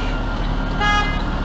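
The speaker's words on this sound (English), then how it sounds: "She honked, so I honked." A truck horn honks briefly over steady engine rumble, close by, sounding for about half a second.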